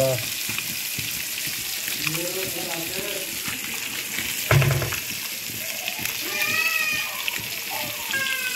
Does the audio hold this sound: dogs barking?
no